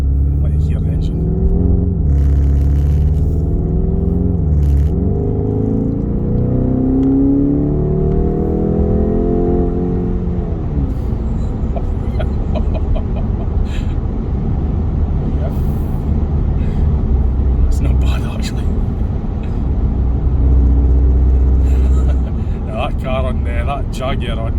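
A 2023 Skoda Octavia vRS mk3 petrol engine revs up with rising pitch, drops as gears shift, then settles into a steady road rumble with occasional clicks.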